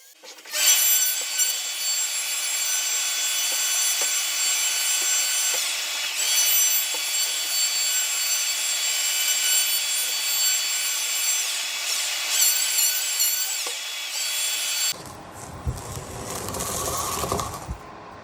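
A handsaw cuts through a wooden filler piece in steady, rapid back-and-forth strokes, close and loud, then stops and gives way to a few brief handling noises.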